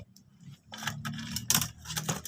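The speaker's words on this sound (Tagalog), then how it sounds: "Kunin natin yung hanger to." Clothes hanger being pulled out of a pet cage, giving light metallic rattles and scrapes in short, uneven bursts, close and fairly quiet.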